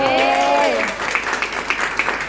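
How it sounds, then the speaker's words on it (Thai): A crowd claps briefly, steady scattered applause mixed with a voice speaking at the start. "ปรบมือ"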